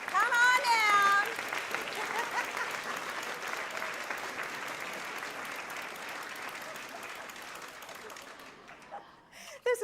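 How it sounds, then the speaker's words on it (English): A crowd at a professional speaker's business event breaks into loud, sustained applause, with an excited voice at the start; the clapping holds steady for several seconds, then thins out and stops near the end. "Great round of applause."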